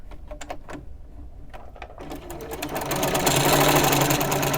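Sewing machine stitching scrap fabric pieces together: a few short starts and stops, then a steady loud run of rapid mechanical whirring, close by and without talk.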